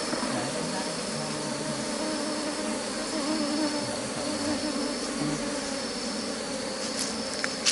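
Honeybees at an open beehive box, a dense continuous buzzing hum from a close swarm, steady throughout, with a voice faintly underneath.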